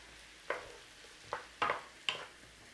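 Mushrooms fry in a butter and oil mixture in a pan, with four quick stirring or scraping bursts over a faint, quiet sizzle and nothing else around them.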